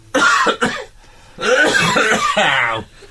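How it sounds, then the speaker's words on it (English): A man coughs and clears his throat in a radio studio, two short harsh bursts followed by a longer rasping bout, close and loud with no talk over it. "I'm going to cough."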